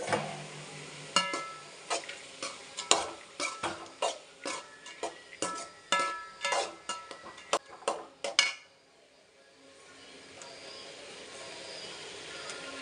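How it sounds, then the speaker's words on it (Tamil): Vegetables with tomatoes sauté in oil in a pan: a spoon scrapes and clinks in quick irregular strokes for about eight seconds, then only a faint, steady sizzle remains. "காய் கொஞ்சம் எண்ணெயில் வதங்கட்டுங்க."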